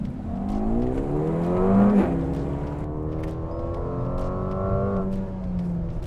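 A 2021 Mercedes-AMG GLA 35 engine revs up hard, its exhaust rising into a loud, rasping roar and climbing in pitch, then holding a strong steady drone.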